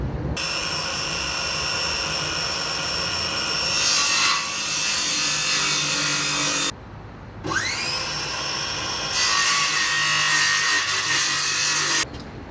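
A hand saw cuts an angled notch into a wooden tiller handle: two long runs of steady, rasping back-and-forth strokes, loud and close, separated by a short pause, with no talking.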